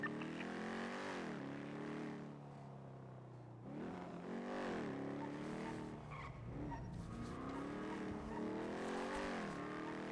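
Car engine revving and tires skidding in the GTA V NoPixel roleplay game, with rising and falling engine pitch and continuous tire squeal through repeated turns, loud and close, no talking.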